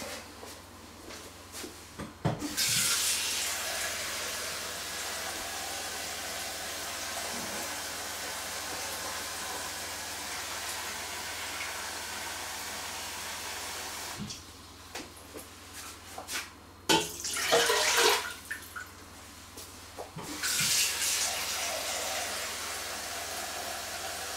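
Tap water runs steadily into a large cooking pot as it is filled with about 1.5 liters of water, a broad hissing rush that continues through most of the stretch, changing briefly as the flow or the pot shifts.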